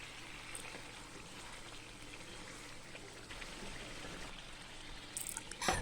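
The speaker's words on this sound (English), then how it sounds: "add in half a cup or 1 cup of water depending on how much gravy you want" Water pours into a pot of spicy, tangy chicken assam pedas gravy, a faint, steady trickling and bubbling wash that swells slightly near the end.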